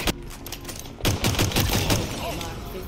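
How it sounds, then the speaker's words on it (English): Battle rifle bursts crackle in a Halo multiplayer match, starting with a single sharp shot, then a thick volley of overlapping fire from about the one-second mark onward. "Seems like everybody on the planet has a battle rifle today."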